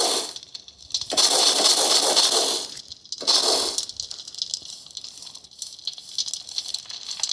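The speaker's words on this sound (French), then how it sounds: "Le feu, vous pouvez voir, il y a un bruitage amélioré." Fire crackling in Minecraft with BD Craft shaders: a hissy, rustling burn swelling in two loud bursts, then settling into a steady fainter crackle and patter.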